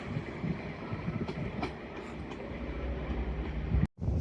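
Train 195 119, a service from Leeds via Garforth, rumbles through York station with a steady rolling noise and faint rail clatter, then cuts off abruptly.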